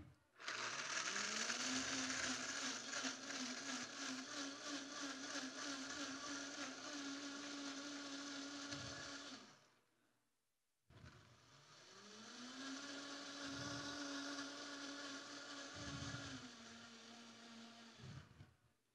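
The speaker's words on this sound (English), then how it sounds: "So this is a high-speed blender" A high-speed blender roars loudly for about nine seconds, stops briefly, then whirs again at full power for another eight seconds, blending a vegan pizza sauce.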